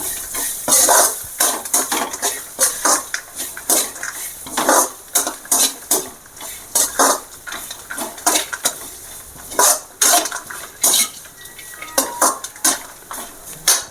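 Coconut and kari vadagam sautéing in a pan, with rapid rhythmic scraping and stirring strokes of a spatula against the pan over a low sizzle, close and fairly loud throughout.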